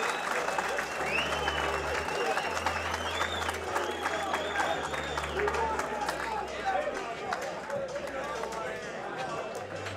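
A boxing-night crowd at a charity fight applauds and cheers loudly after a bout. The clapping is dense and sustained, with shouts and whistles over it, and voices talk throughout.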